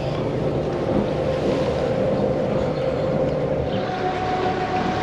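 Steady low drone of a diesel engine on a Delphia 11 inland boat cruising slowly, with wind buffeting and water wash around it.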